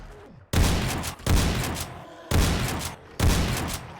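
Four loud, booming shotgun blasts go off in 7 Days To Die, spaced roughly a second apart, each with a broad crack and a short decaying tail, right up close with no talk over them.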